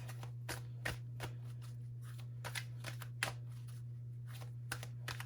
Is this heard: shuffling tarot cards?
yes